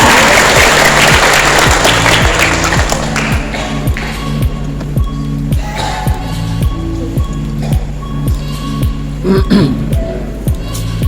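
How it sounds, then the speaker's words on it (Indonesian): Applause rises from the crowd at a Jember school award ceremony under steady rhythmic music, the clapping strongest at the start and then continuing more faintly. "Tepuk tangan untuk orang-orang hebat"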